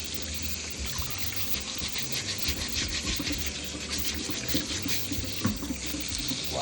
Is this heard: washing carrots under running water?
yes